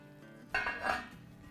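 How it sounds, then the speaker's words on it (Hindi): Sweet vermicelli cooked with milk powder is stirred in a pot on low heat, a brief scrape and clink of the spoon against the pot over a soft background hum, no voices. "अब हम इसे हिलाते हैं"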